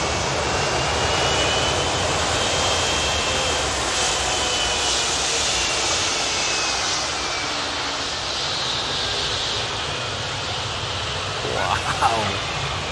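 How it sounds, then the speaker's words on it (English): An airplane engine at an airport, heard as a loud, steady broadband roar filling the whole stretch, with a brief rise in noise near the end. "What a pretty plane that is."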